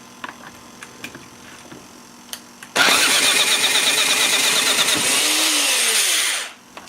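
Mini Hog 70 small engine cranks and fires up after light clicks, then runs loud and steady for a few seconds close by before cutting off abruptly.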